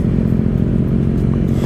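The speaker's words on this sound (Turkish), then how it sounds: "Enduro'cu Dük 790. Bayılıyorum şu motora ya." A KTM Duke 790 motorcycle idling close by on a seaside group tour, a loud, steady low engine throb with even pulsing and no speech over it.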